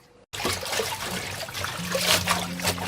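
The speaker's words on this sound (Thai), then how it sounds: "เดี๋ยวเราไปล้างส่วนที่เป็นใบค่ะ" Tap water runs and splashes steadily over Chinese kale leaves being washed, a close, continuous rushing that starts abruptly after a moment of quiet.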